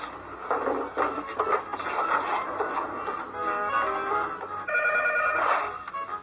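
A telephone rings with several rapid trilling bell bursts as a call is placed to a club president, close and fairly loud, with clattering and shuffling sounds between the rings.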